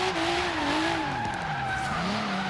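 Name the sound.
car drifting in Forza Horizon 3 video game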